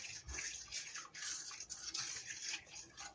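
Thyme and oregano seasoning is mixed in a bowl with quiet, rhythmic scratchy strokes that swell and fade at a steady pace, close and fairly soft throughout.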